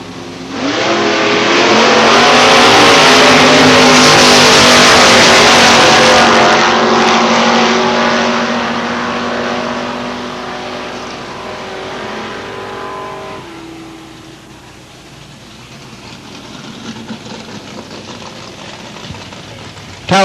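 1978 Chevrolet Camaro Z28 drag racing at London Motorsports Park, a loud engine roar with rising harmonics as it accelerates hard, then fading away down the strip into quieter distant rumble.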